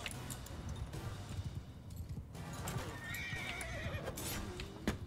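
Horses in the Mount and Blade 2 Bannerlord video game gallop with rapid clip-clop hoofbeats and let out whinnies near the end, set over a busy battle din.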